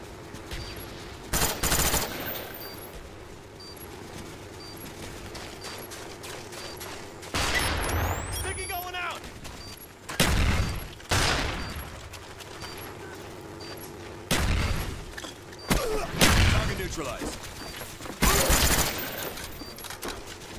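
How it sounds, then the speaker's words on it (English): Mortar strikes in Black Ops 1 multiplayer land as repeated loud booming bursts of explosions and gunfire, several heavy blasts spaced across the stretch over continuous battle noise. "Mortar coordinates received, firing for effect."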